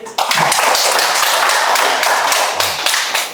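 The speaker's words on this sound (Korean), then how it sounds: "박수로 치세요" An audience claps together at a talk, a dense burst of close, sustained applause that starts sharply and runs steadily before thinning at the end, with no voices over it.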